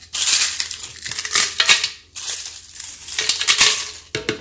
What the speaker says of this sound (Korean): 믹서기에 넣어서 갈겠습니다.